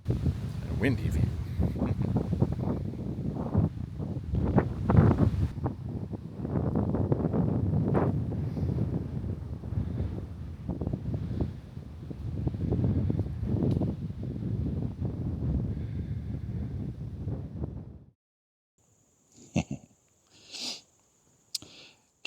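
Steady wind buffets the microphone at a rocky mountain overlook along a trail in Shenandoah in autumn, a loud continuous roar and rumble for most of the stretch before cutting out to near silence with a few faint bumps.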